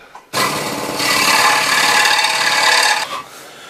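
A scroll saw cutting a wooden board, a loud close buzzing rasp that starts abruptly, holds steady for about three seconds, then stops, with no talking.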